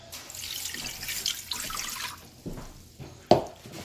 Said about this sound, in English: I'm going to get a cup of water and pour the water in there